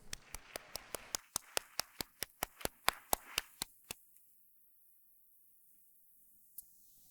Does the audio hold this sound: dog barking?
no